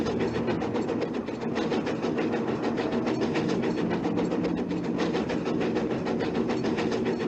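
A steam train running in the Nancy Drew game The Last Train to Blue Moon Canyon, a continuous rhythmic clickety-clack of wheels over rails under a steady engine rumble.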